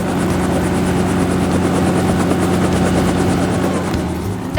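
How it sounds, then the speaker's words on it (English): A helicopter flies overhead with a loud, steady rotor chop and engine drone that holds throughout, fading slightly at the very end, with no talking. "That's right, it's a helicopter."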